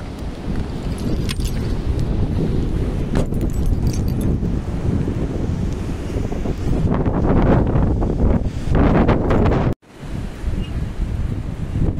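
Heavy wind buffets the microphone in a continuous loud rumble, with a brief dropout near the end before the gusting resumes.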